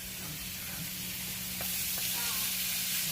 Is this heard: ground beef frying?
yes